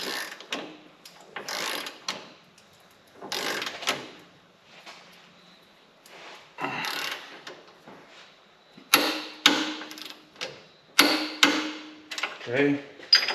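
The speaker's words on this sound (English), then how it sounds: "We're gonna go ahead and torque these to 125 foot-pounds." Torque wrench tightening track bar bolts to 125 foot-pounds on a lifted Lexus GX with a KDSS track bar correction kit, a series of separate close bursts of ratcheting clicks and metallic knocks with short pauses between them.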